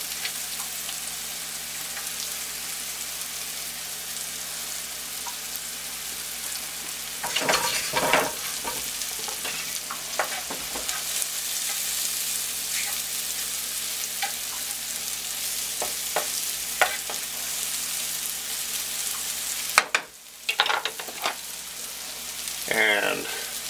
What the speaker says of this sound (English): We can throw in the onions.